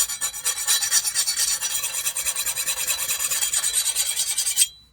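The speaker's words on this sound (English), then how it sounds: "I'm going to take just a normal metal file, and almost instantly you can hear that high-pitched ping sound." A plain metal file rasps across a forged steel knife blank in quick, even back-and-forth strokes, close and bright, stopping abruptly at the end.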